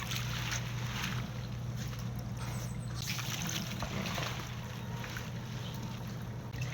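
Water sloshing and splashing as cabbage is washed by hand for Bisaya-style kimchi, a continuous wet churning with a low steady hum underneath.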